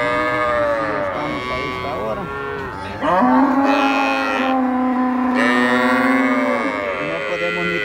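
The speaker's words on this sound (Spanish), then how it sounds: "ustedes que miren esta enorme vaca" Loud, drawn-out moos from large dairy cows overlapping one another, several cattle lowing close by in a long continuous chorus at a livestock market in Santa Rosa de Lima.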